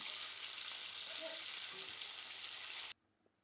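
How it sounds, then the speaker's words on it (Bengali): Rohu fish frying in hot oil in a wok, a steady, close sizzle with faint stirring that cuts off abruptly near the end, leaving near silence. "আমি কড়াইয়ে তেল গরম করে তাতে মাছগুলো ছেড়ে দিলাম ভালো করে ভেজে নিচ্ছি"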